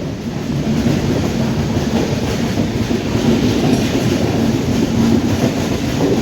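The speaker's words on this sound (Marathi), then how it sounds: "3 मिनिटाच्या स्टॉपनंतर दादरवरून निघालेली आहे आपली मांडवी एक्सप्रेस" Mandovi Express pulling out of Dadar station after a three-minute stop, its coach wheels beating a steady clickety-clack over the rails in a continuous loud rumble heard from inside the carriage.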